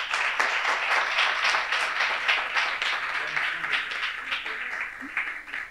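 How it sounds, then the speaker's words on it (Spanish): An audience applauds at the close of a conference panel session on AI and health, a dense, steady patter of clapping from a large crowd that gradually thins toward the end. "por favor, pues un aplauso"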